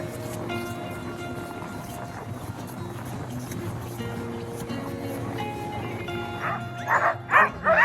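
Huskies at a sled dog farm bark and yip, a busy distant chorus at first under a steady hum, growing louder and closer with sharp excited yelps toward the end.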